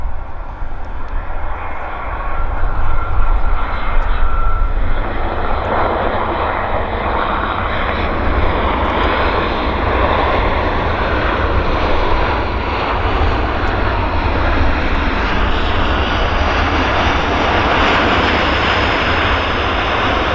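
A United Airlines A320 rolls out after landing, a loud, sustained roar of jet engines and rushing air that builds in the first few seconds and then holds steady and close throughout.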